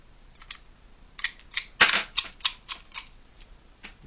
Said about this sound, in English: So we're going to take all the bullets out of the mag.